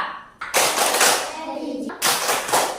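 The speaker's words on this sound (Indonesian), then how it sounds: "Kita tepuk PPK." Schoolchildren in a classroom perform a rhythmic group clapping chant, bursts of loud clapping and voices in two main blocks with a brief pause between.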